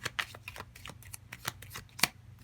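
Tarot cards are shuffled and drawn in a quick run of crisp riffling flicks and slaps, close and fairly loud, ending in one sharp snap of a card.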